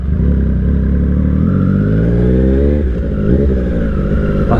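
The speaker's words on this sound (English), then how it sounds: "That is a unbelievably nice sounding bike" A Triumph Street Triple 765 RS motorcycle engine growls loud and close, its pitch rising and falling as it revs with a smooth, throaty tone throughout.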